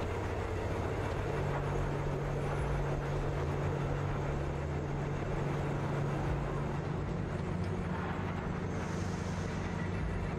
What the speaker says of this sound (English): My objective is to follow the train.